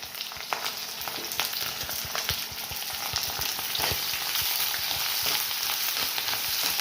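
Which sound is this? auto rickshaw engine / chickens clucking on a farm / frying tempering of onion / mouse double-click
frying tempering of onion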